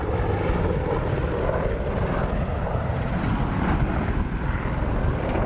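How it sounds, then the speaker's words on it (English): Apache gunship helicopter flying a display at an airshow, its engine and rotor roar steady, loud and broadband throughout without letting up. "pitch the aircraft to 90 degrees nose down, balancing with pedal before performing a banking twist to recover at 200 feet"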